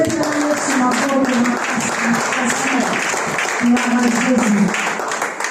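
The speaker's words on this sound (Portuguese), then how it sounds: "Aplauda a Deus bem forte." A church congregation at a Sunday service applauds loudly and continuously, the clapping mixed with sustained voices and tonal sounds throughout.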